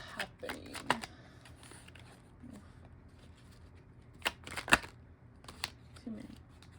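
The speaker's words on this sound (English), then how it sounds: "Too many. Let me shuffle again." Tarot cards shuffled by hand in a few quick riffling bursts with softer rustles between, close and fairly quiet, with no talking over them.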